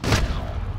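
A gunshot in a first-person shooter game, with a loud broadband blast at the start that trails into a sustained rumbling tail of echo and game noise.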